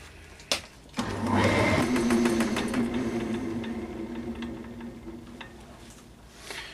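Wood lathe spinning a beech bowl blank as a bowl gouge cuts it, a steady whirring hum with a rhythmic chattering of the tool on the uneven blank, moderately loud after a brief knock at the start.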